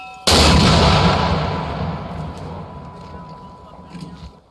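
A Marine Corps mortar fires once at an infantry training school: a sudden loud blast that decays slowly into a long rumbling tail lasting several seconds, with no talk over it.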